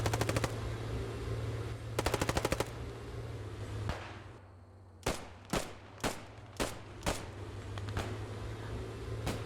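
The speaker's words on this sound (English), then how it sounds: "Look at the MG42 just spraying the corner there" An MG42 machine gun in the World War II shooter Post Scriptum, set at Sainte-Mère-Église, firing a rapid burst, then a pause and a string of evenly spaced shots against a low battlefield rumble.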